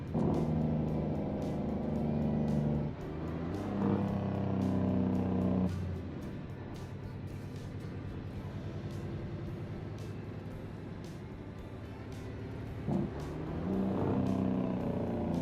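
In American Truck Simulator, a truck engine labours uphill with a deep, steady drone, its pitch shifting up and down as gears change, loud and continuous, with no talking over it.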